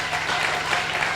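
A church congregation applauds steadily at close range, a dense, even wash of clapping that holds for about a second without any distinct cheering.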